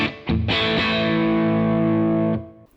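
An electric guitar played through a Boss Katana amplifier rings out as a distorted chord after a quick pick attack, sustaining loud and full for about two seconds before being cut off.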